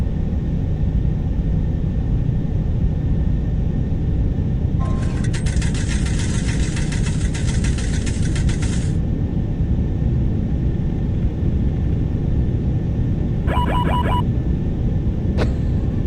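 Boeing 747-400 engines spooled to takeoff thrust in a home flight simulator, a loud constant roar with low rumble, overlaid partway by short electronic beeping and chime tones.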